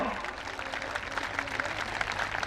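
Audience members at a Buddhist gathering clap in a quiet, steady patter that holds evenly throughout, heard from some distance.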